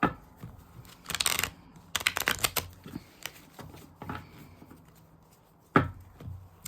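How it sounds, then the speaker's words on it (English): Tarot cards being shuffled by hand during a pick-a-card reading, soft riffling bursts and taps in irregular clusters with quieter gaps between, close up, with no talking. "we're gonna shuffle it a little bit"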